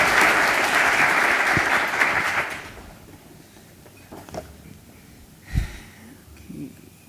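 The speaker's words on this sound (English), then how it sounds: "we should give her a round of applause" An audience at a university public event gives a loud, dense round of applause that lasts about two and a half seconds and then fades, leaving a quiet room with a few faint knocks and shuffles.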